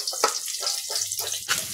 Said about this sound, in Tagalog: igisa na natin yung bawang at sibuyas